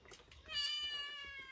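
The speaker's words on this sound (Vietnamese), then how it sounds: "Con mèo nó ăn đấy." A cat gives one long, drawn-out meow close by, rising and holding steady before trailing off over light household background noise.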